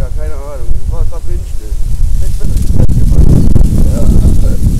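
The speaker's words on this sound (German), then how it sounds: "Was ist denn mit dem Wind hier los?" Strong outdoor wind buffets the microphone in a loud, rumbling roar that takes over after a stretch of talking at the start.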